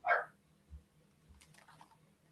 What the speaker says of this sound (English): Now my dog is to be let in.